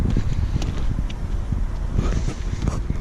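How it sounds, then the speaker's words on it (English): Steady wind gusts buffet the microphone outdoors at Landa Park, a broad continuous rumble with faint rustling and occasional soft footsteps underneath. "it's not like you can't hear the wind or anything."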